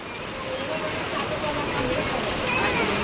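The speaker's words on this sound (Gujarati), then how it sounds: "હા જબર વરસાદ આવો" Heavy wind-driven rain falls steadily on a house with a freshly loaded roof and metal sheets, a dense continuous wash rising slightly toward the end, with voices talking over it.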